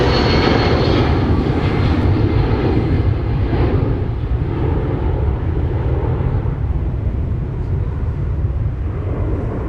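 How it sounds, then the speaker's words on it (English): A jet airliner roars down runway 30 left at Minneapolis–St. Paul airport on takeoff, a loud, steady broadband engine rumble that holds for the whole stretch with no voices. "Skyline 4024, fly runway heading, runway 30 left, clear for takeoff."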